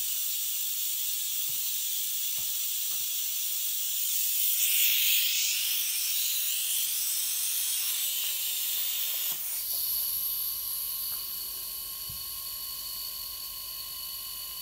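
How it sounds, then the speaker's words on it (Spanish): A homemade air compressor motor inflating a slack tire gives a steady, loud hiss that swells midway, then drops to a thinner, even hiss with a faint tonal whine and a few small knocks. "Se puede apreciar que conforme va cogiendo presión, el motor le va costando más trabajillo."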